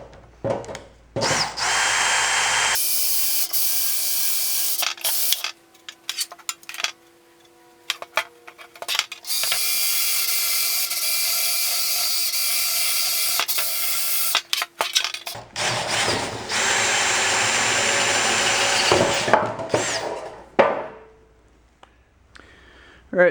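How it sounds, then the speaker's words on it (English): A power drill bores out spot welds in the sheet-metal body of a 1949 Willys pickup, running in long, loud whining stretches broken by pauses, with metallic ticks and scraping between bursts. "I just need to find those spot welds and drill them out"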